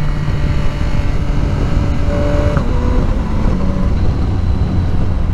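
A 2022 Yamaha XSR900 motorcycle pulls hard through its gears with the quick shifter, a steady loud engine drone with rising tones and brief dips at each upshift, heavy wind roar throughout.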